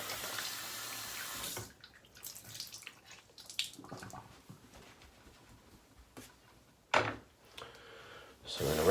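Water running from a tap for rinsing: a steady hiss of flow that stops, followed by quiet handling noises, small splashes and brief gushes of water, with a faint voice in the background.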